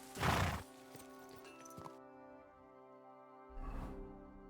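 A horse in the video game Kingdom Come: Deliverance II gives two close, breathy snorts, one at the start and one near the end, over a steady tonal game backdrop.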